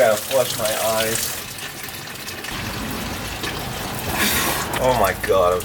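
A faucet runs in a garage workspace as water is splashed into the eyes during a BMW E36 cooling system rebuild, a gushing flow broken by voiced exclamations near the start and end.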